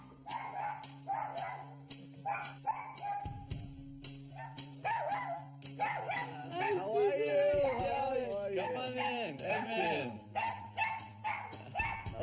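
A dog barks and yips in short bursts with some whimpering, mixed in with steady talking and background noise in a home setting.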